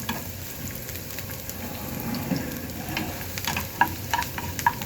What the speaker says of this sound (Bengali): সুন্দর করে বাদামি করে ভেজে নেব